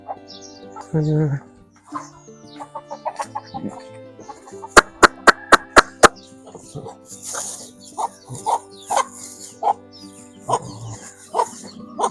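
Hens cluck and murmur close by in short bursts, with a quick run of sharp taps partway through and a dog audible among them.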